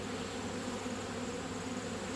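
Honeybees buzzing around an open hive during an autumn inspection, a steady close droning hum with no breaks.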